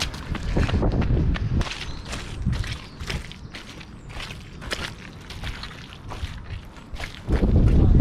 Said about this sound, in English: it's really windy, you're not going to be able to hear any of this